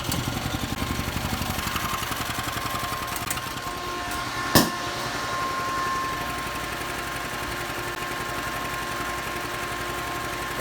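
A generator runs on 24 LPM of HHO gas, a steady mid-pitched engine drone throughout with a rhythmic pulsing, a sharp single knock near the middle, no talk.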